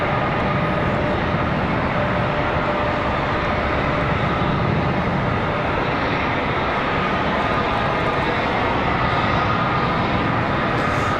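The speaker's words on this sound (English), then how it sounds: "Got another arrival, Envoy 3864, coming in from Hilton Head Island." An Envoy Embraer E175LR airliner arriving at Charlotte Douglas airport, its engines a loud, steady broadband roar that holds throughout without any talk.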